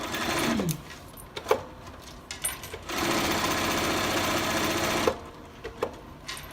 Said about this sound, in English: I sew around it again, go all the way around